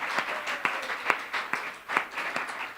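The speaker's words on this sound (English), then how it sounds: "let us give a round of applause for our debaters" Audience applause for debaters at a schools debate final: a small group claps in sparse, distinct, fairly close hand claps over about three seconds.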